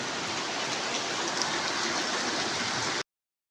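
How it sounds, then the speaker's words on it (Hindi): Steady, dense hiss of heavy rain pouring down, loud and unbroken for about three seconds before cutting off abruptly. "ज़बरदस्त बारिश हो गई है जी"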